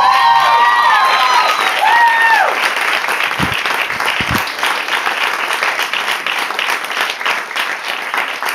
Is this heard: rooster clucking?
no